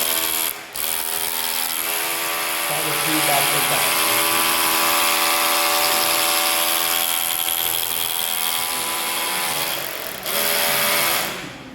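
A Dongcheng DCZC 13 cordless rotary hammer drill runs continuously at a steady high whine, loud and close, starting and stopping briefly near the beginning and end.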